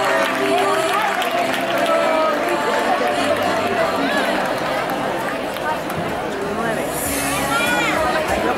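Crowd applause at a festival float awards ceremony in Guadamur, a steady wash of clapping and cheering from many people, loud and sustained throughout with an announcer's voice and chatter mixed in.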